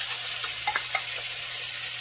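Olive oil sizzling in a preheated pan on the stove for cooking bottle gourd, a soft steady hiss with faint crackles and light stirring, heard alone at low level.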